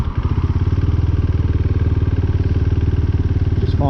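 A KTM 390 Duke single-cylinder engine putters in fast, even pulses at low revs to keep it from stalling, loud and close, with no voices.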